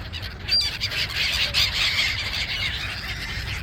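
Seagulls and other birds squawking and squealing while being fed bread outdoors: a dense, continuous chorus of overlapping calls at mid distance over steady background noise.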